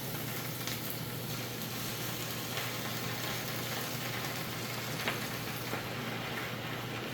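Sliced beef for gyudon hits a hot pan and sizzles in a steady, dense hiss that holds throughout, with a few faint clinks from the pan.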